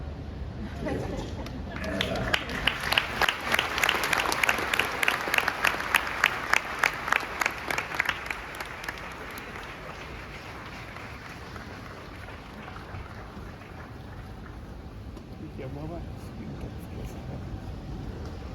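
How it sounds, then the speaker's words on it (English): Audience at the Africa Climate Summit 2023 applauds after the opening remarks, a large hall of clapping with rhythmic unison beats early on that fade into a softer, diffuse patter. "One more round of applause."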